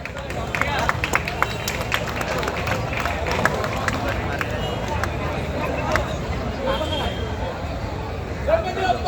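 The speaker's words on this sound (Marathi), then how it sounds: "जोरदार टाळ्या" A large outdoor Dahi Handi crowd claps and cheers for a Govinda team, a dense, continuous burst of applause mixed with loud crowd babble.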